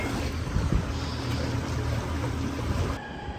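A restored aluminum Sea Nymph boat's motor runs out on the water in a steady, rough drone mixed with wind and water noise, with no voices, easing off slightly near the end.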